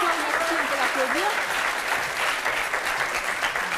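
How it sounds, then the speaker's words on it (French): An audience applauds on a French television talk show, a dense even clatter of many hands held at steady loudness, with a voice speaking briefly over it at the start. "on peut l'applaudir"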